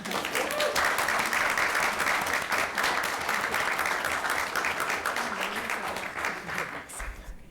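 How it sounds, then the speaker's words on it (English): An audience applauds and cheers for school ambassadors at a school board meeting, a dense, loud, sustained burst of clapping that holds steady and then tapers off near the end. "Yes, we need to cheer them on first."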